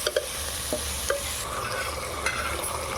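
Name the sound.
stir-frying sprouted grains in a pan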